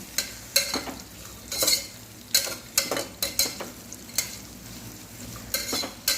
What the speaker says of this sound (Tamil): ஒரு 5 நிமிஷத்துக்கு எண்ணெயிலேயே வதக்கிக்கலாம்